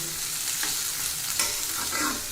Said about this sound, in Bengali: এবার গরম তেলের মধ্যে পাঁচটা পেঁয়াজ কুচি এবং দশ বারোটা মরিচের ফালি দিয়ে দিচ্ছি